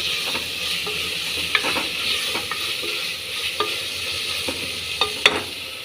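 Medium-sized tomatoes sizzle in a hot pan while a spoon stirs them, a continuous close fry broken by repeated sharp scraping clicks against the pan, with no talking.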